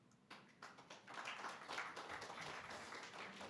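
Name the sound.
audience applause at conference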